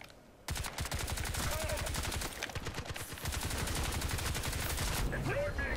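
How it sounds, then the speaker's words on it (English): Rapid automatic gunfire in the online shooter Crysis 2 rattles out in a long, dense burst after a brief quiet start, loud and continuous with a few short pauses, while faint voices murmur underneath. "He was shooting at me."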